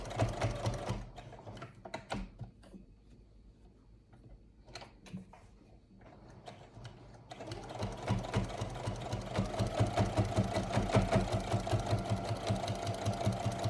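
Sewing machine stitching the raggy seams of a rag quilt, a near, rapid whirring hum that runs in short bursts at first, pauses briefly, then settles into a long continuous stretch of quick stitching.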